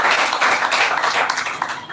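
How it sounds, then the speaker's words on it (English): An audience of grand finalists at a speech competition applauds themselves, giving a dense, continuous wash of clapping that stays loud and steady for a couple of seconds. "So give a huge round of applause for yourselves."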